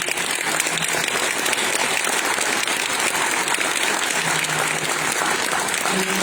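A banquet audience gives a sustained round of applause for Hall of Fame inductees, a continuous dense wash of clapping from many hands that holds steady and loud throughout, with no speech over it.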